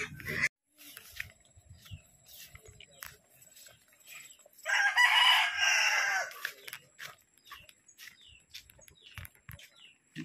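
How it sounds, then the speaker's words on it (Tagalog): A large chicken crows at a rural home, the call fairly faint and slightly distant, surrounded by scattered clucks, bird chirps and footsteps. "Laki ng manok ito."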